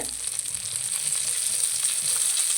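Curry leaves sizzle in hot masala oil for a chicken leg-piece gravy, giving a steady, close frying crackle that holds even throughout with no voices.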